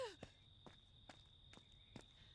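Footsteps in the horror video game Friday the 13th The Game land in an even rhythm, five or so soft thuds spaced about half a second apart over a faint steady tone.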